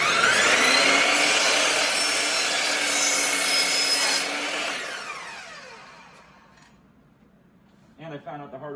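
A saw cuts through 80/20 extruded aluminum in a home garage during a van build: a loud, whining, grinding cut runs for about five seconds, then winds down and fades, and a voice starts talking at the end.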